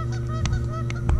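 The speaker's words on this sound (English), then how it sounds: "These geese have no respect." A goose honks several times in quick, uneven bursts over a low steady background rumble, moderately close.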